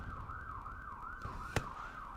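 Wailing emergency-vehicle siren outside in a big city, a steady rising-and-falling sweep heard at a distance behind the room, with one sharp knock partway through.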